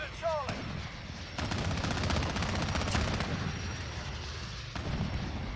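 Gunfire in the Modern Warfare shooter game during a multiplayer match: a dense, sustained stretch of rapid automatic shots fills the middle of the clip, close and loud, with quieter game noise before and after.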